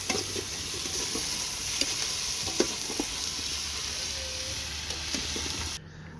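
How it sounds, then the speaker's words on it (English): Pork fat sautés with ginger, garlic and onion in a pan, producing a continuous close hiss of frying with occasional light stirring taps. No voices are heard, and the sizzle cuts off abruptly near the end. "I saute this one with ginger, garlic, and onion"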